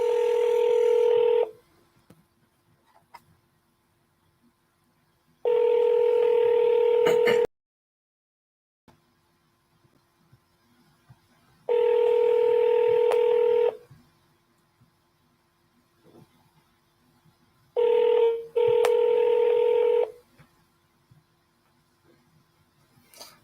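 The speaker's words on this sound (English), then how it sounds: "we're using the single line dialer" Touch-tone dialing from a single line dialer during real estate cold calling: four separate bursts of steady DTMF tones, each lasting a couple of seconds, with quiet gaps between them and no talk.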